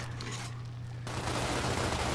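Blind-fire gunfire in the Gears of War beta, a sustained rattle that bursts in loudly partway through over a low steady hum.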